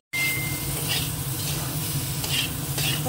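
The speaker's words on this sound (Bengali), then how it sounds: "এবার ওলটাকে দিয়ে একটু কষিয়ে নেবো" Cubes of elephant foot yam sauté in a pan of spices fried with salt and a pinch of sugar, giving a steady, close sizzle with scraping stir strokes throughout and no voices.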